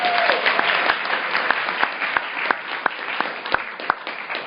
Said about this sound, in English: Another round of applause for Greg, please.